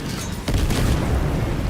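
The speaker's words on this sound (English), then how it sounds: "Oh gosh, that's a big bomb." A big bomb explosion lands as a sudden deep boom that swells into a sustained low rumble and roar, loud and filling, with no voices over it.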